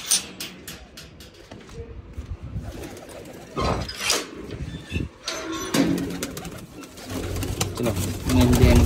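Pigeons coo in a rooftop loft in soft, repeated throaty calls, close by, mixed with shuffling and rustling while people talk nearby.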